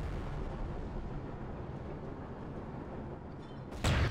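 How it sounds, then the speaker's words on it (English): Artillery fire in the Star Wars strategy game Empire at War, Awakening of the Rebellion mod, a continuous dense rumbling barrage of distant blasts with one louder, nearer impact bursting in at the very end. "oh, artillery, dang"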